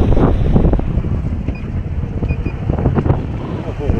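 Strong wind buffets the microphone on a fishing boat at sea off Chumphor, a loud continuous low roar with engine and water noise throughout, faint voices underneath.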